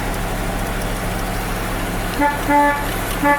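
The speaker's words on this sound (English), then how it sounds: "Horn works." A 1975 Corvette C3 convertible's horn toots three times, short bursts at the end, over the steady hum of its idling engine.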